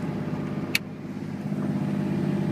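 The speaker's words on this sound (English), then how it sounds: "and here comes the exhaust brake." A 2001 Dodge Ram 2500 with a Cummins diesel and six-speed manual runs downhill in fourth gear with the exhaust brake engaged, giving a steady, deep engine rumble that builds slightly, with a single sharp click early on.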